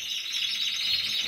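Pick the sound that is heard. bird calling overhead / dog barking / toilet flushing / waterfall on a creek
bird calling overhead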